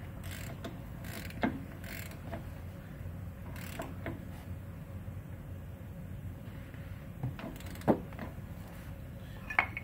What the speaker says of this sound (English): So, pop it in, torque it down.